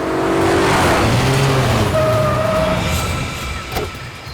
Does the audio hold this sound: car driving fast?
yes